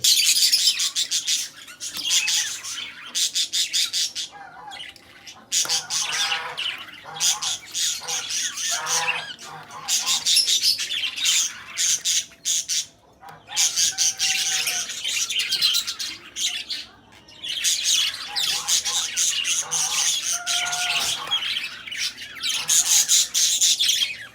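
Caged birds squawk and chatter continuously, with harsh overlapping calls and high chirps filling the whole stretch, loud and close.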